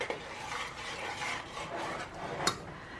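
Thickened corn chowder is stirred in a boiling pot, making soft scraping and rubbing strokes of a spoon against the pot, with a sharp clink near the end, fairly quiet and without talk.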